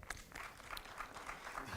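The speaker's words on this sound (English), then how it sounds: "A round of applause for him." Scattered, faint clapping from a crowd at a high-level conference forum, soft and somewhat distant, with no voices.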